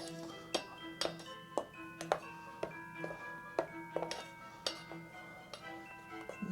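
Eggnog mixture being folded together in a bowl, giving a run of light, fairly evenly spaced clinks and taps of utensil on dish, quiet and close, with no talk.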